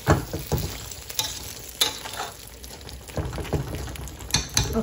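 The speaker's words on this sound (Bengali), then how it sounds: "এবার আমি একটু নেড়ে চেড়ে নিব।" Black cumin seeds frying in a pan for a sweet-sour pickle are stirred, with loud sizzling and repeated scraping strokes of a spoon against the pan, close and alone.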